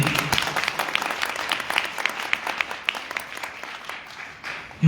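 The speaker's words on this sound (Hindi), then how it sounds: "तो मैं चाहूंगा एक बार जोरदार ताली" An audience applauds at an IMC company office opening with a burst of individual hand claps, quick and clearly separated, fairly close, thinning out toward the end.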